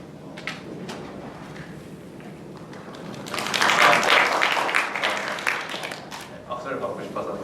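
Students in an applied physics lecture hall clapping at the start of class, a short swell of applause rising after the lecturer's speech and then giving way to his voice again.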